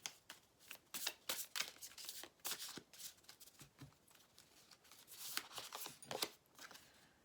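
Tarot message cards being shuffled close by, soft riffling and flicking bursts in an irregular rhythm over several seconds, quiet with no talking.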